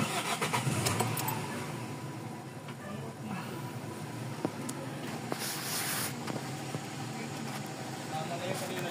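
A Toyota 4A-FE car engine cranks and catches on a cold start, then runs with a rough, noisy rumble and occasional clicks, close by.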